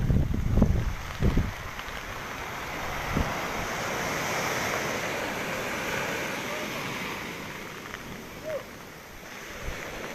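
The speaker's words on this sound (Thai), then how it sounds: "โอ้คลื่นสูงครับประมาณ1 เมตรครับ" Storm-driven surf from storm Pabuk surges ashore on Samui, a broad continuous roar of waves and gusting wind buffeting the microphone, with a few louder thumps near the start.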